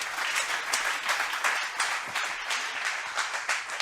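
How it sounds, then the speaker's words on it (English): A conference audience at a Berlin summit claps for four panel speakers, moderately loud applause with individual claps standing out in an uneven, steady patter. "let's give a round of applause to our 4 speakers here."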